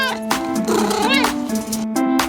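A cartoon cat meows loudly and close in a couple of drawn-out, bending meows, apparently voiced by a person imitating the cat.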